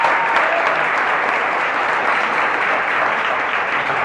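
Large audience at a network-marketing seminar applauding loudly and continuously, a dense, even roar of many hands with no pauses.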